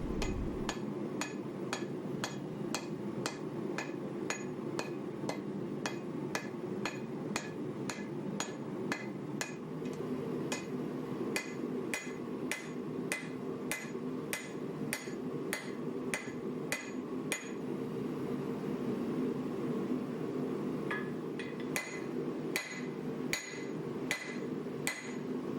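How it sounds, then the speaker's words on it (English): Steady hammer blows shaping a canister Damascus billet made from nails into a petty knife, ringing metallic strikes in a regular rhythm, close and loud, with a brief pause before the hammering resumes at a slower pace. "I can weld a handle on it and start forging out the knife"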